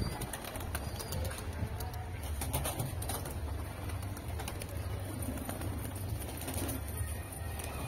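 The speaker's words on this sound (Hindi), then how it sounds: "ये उड़ रहे सारे कबूतर पीछे अपने" Domestic pigeons released from their loft, flapping and cooing outdoors as the flock flies around, a soft continuous mix of low coos and wing noise under steady ambient hiss.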